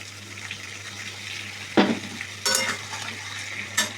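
Fried potatoes, onion and tomato are stirred in a pan with masala paste, giving a low continuous sizzle and a few loud scraping strokes of the spoon against the pan.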